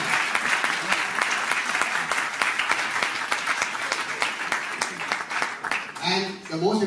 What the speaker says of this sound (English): I want all of you all to give a big round of applause for these two individuals